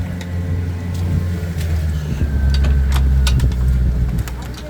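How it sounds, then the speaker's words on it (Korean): A boat engine rumbles low and steady nearby at sea off a marina, with faint clicks and knocks on top and a voice speaking briefly. "엔진 끄셔도 돼요."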